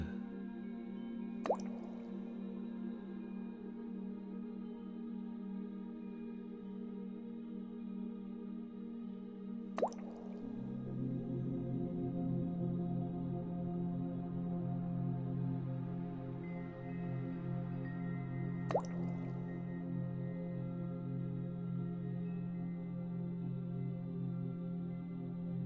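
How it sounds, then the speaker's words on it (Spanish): Three single water drops fall at slow, widely spaced intervals, each a clear close plip with a ringing tail, over a steady low ambient hum. "Imagina una gota de agua."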